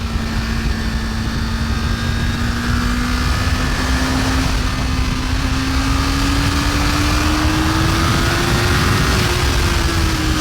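A 2023 Kawasaki Ninja 400 sport bike runs steadily on twisty roads. A close, loud engine drone holds a smooth tone that slowly rises in pitch, backed by constant wind rush throughout.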